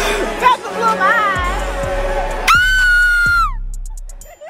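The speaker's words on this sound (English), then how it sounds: "going in the gym and yell as loud as you can" A person in a gym yells at full volume, a long loud sustained shout that follows a burst of noisy voices and music, ending in abrupt silence with a few sharp ticks.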